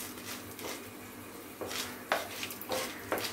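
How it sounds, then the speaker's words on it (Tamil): Lentils and other thuvaiyal ingredients dry roasting in a pan, with a soft dry sizzle and repeated scrapes and clinks of a spoon stirring against the metal, fairly close and moderately quiet. "இதை வந்து கொஞ்சம் வந்து கலர் சேஞ்ச் ஆகிற வரைக்கும் வறுத்துக்கலாம்."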